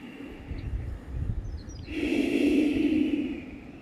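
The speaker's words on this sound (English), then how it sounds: "Longer exhale, happier inhale." Slow, deep breathing during a guided yoga session: a soft, drawn-out breath in and out, the longer exhale swelling in the middle and fading at the end, close and quiet with no talking.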